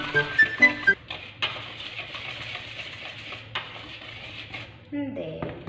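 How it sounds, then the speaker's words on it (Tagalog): Powder for a strawberry cake stirred in a bowl, with a few sharp clinks of a utensil against the bowl at the start, then a soft steady scraping and occasional taps, close by, with faint background talk. "Haluin natin itong mga powder."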